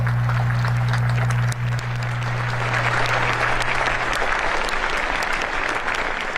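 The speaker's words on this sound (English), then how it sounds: "please join me in giving them a heartfelt round of applause" A large audience at a Naval Academy commissioning ceremony breaks into sustained applause, a loud, steady wash of clapping that builds after a low steady hum fades out.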